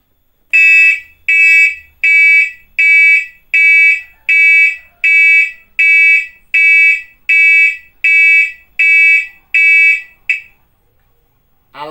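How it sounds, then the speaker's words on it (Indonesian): A loud, piercing earthquake warning siren beeps in a regular rhythm, about thirteen evenly spaced electronic tones, then stops. "Alarm sirine ini bunyinya sangat keras."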